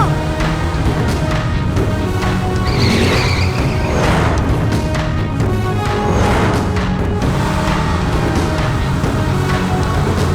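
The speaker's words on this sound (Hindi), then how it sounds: "रुको, रुको, गाड़ी रोको।" An animated car skids hard to a stop: loud, continuous tire squeal and engine roar, layered with dense cartoon sound effects and music throughout.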